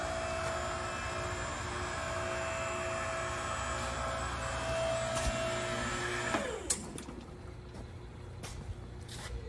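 A 3,000 lb Dayton scissor table with a single cylinder and self-contained hydraulics runs with a steady electric hydraulic pump hum and whine, which stops abruptly near the end, leaving quieter room noise.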